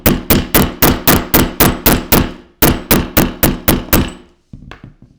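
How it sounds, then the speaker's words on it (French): A mallet pounds a .38 S&W cartridge case into a tube during reloading, giving about fourteen loud, evenly spaced solid thunks in quick rhythm, a short pause, then a few lighter, duller taps at the end. "On va prendre le maillet. Et là par contre il faut y aller, faut pas hésiter."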